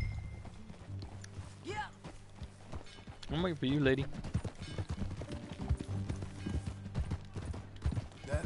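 Horse hooves clip-clop in Red Dead Redemption 2, a light rhythmic patter running under a steady low game-music drone, with voices talking over it, including a woman's short lines.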